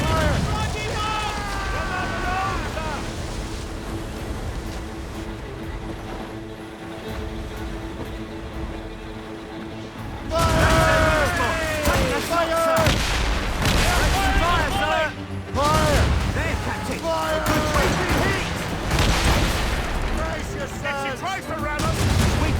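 Ship cannons fire broadsides in a naval battle in Assassin's Creed Rogue, several booming volleys crashing over ocean noise while crew voices shout throughout.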